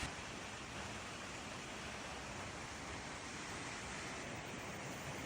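Water pours steadily at Queen Mary Falls, a continuous broadband rush of a waterfall heard alone without pause.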